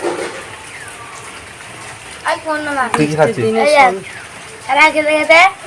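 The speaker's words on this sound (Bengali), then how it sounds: "এই দেখতে পাচ্ছ এখনো পড়ে যাচ্ছে ঝিরিঝিরি বৃষ্টি" Light rain falls with a steady soft hiss in the background while a person talks over it.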